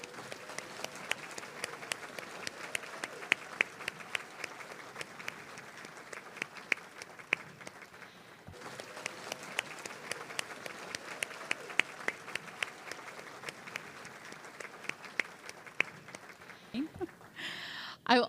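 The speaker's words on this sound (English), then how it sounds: "Ladies and gentlemen, a round of applause for all of our honorees this morning." An audience at an annual awards breakfast applauds its honorees in long, sustained clapping with distinct individual claps, briefly dipping midway, with speech murmuring underneath and a louder thump at the end.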